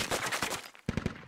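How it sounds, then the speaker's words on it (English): A 50 caliber heavy machine gun fires in the military shooter Squad, loud rapid bursts of shots in two short strings with a brief gap between them. "the heavy gun is right on target with the 50 caliber cord machine gun"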